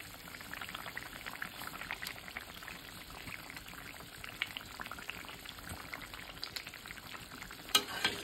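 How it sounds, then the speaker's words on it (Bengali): Taro (mankochu) frying in a large wok, a soft, steady crackling sizzle heard at a moderate distance, with faint stirring and an occasional sharper clink. "তো এই বড় কড়াইটার মধ্যে বসালাম হচ্ছে মান কচু ভাজা।"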